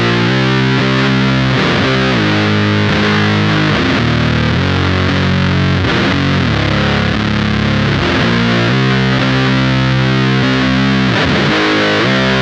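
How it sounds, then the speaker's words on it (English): Electric guitar played through a Minotaur Sonic Terrors fuzz pedal on its own, thick saturated chords and sustained riffs ringing loud and close, with rhythmic chord changes and no talking. "So let's go ahead and hear the fuzz by itself"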